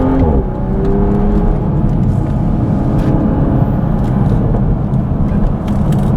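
2022 Toyota Supra with the 3.0L engine driving in traffic, heard from inside the cabin as a loud, steady engine drone with road rumble and a slight rise in pitch, no voices.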